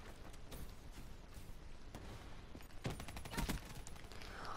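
Rapid bursts of gunfire from a first-person shooter match, several sharp cracks clustering into quick volleys that grow denser and louder toward the end, with no talking over them.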